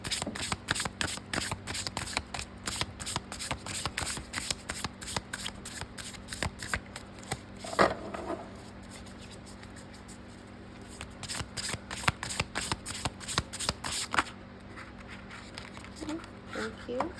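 Tarot cards shuffled by hand for a pick-a-card reading, a steady run of crisp riffling and patter close up, with one brief louder shuffle burst partway through and no talking.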